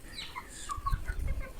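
A hand-raised chick clucks softly while pecking at corn held in a person's hand, with a few short close-up calls over low rustling.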